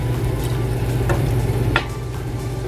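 A whisk stirs a slurry into boiling sauce for a crock pot pork tenderloin, giving a continuous bubbling, sizzling texture with a few faint scraping clicks, close and steady throughout.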